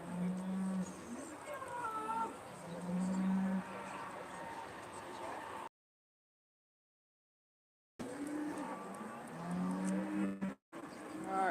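Aberdeen-Angus cattle moo at the Royal Highland Show during breed judging, with several low, sustained calls close by under steady background hubbub and a commentator speaking, broken by a few seconds of silence.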